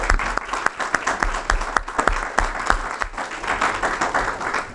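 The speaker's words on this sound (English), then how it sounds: "So let's give the panelists all a big round of applause." The audience at a panel on world food crisis solutions applauds the panelists, a full burst of close, sharp claps with individual hand strikes standing out, sustained across the stretch.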